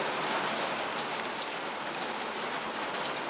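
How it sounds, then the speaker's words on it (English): Summer rain falls outdoors in a dense, continuous hiss of drops pattering on surfaces, loud and even throughout, with no speech. "It's a nice summery rain."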